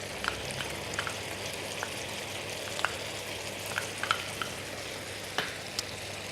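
Garlic sizzling in a pan of beef stroganoff after white wine has reduced, a steady close frying hiss with scattered soft pops and light stirring.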